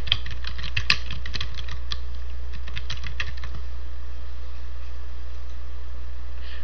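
Quick bursts of typing on a computer keyboard while a product name is entered into an online shop's admin form, close and crisp clicks for about three and a half seconds, then only faint background hiss.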